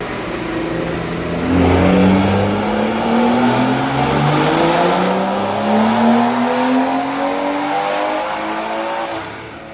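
A turbocharged BMW M240i with a six-speed manual revs hard through a long full-throttle pull, pitch climbing steadily through the gears, loud and close, the car trailing smoke.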